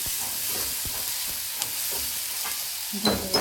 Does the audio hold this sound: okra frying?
yes